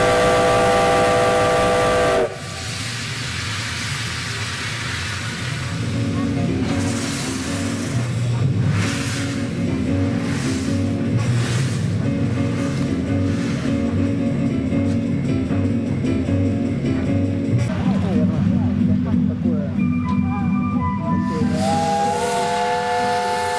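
A five-tone steam whistle on an SO-class locomotive sounds loudly at first, then gives way to hissing steam and chugging locomotive rumble; another whistle blast returns near the end.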